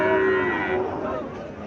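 A Sahiwal breed calf lets out a single drawn-out moo, close and clear, fading after a second or so.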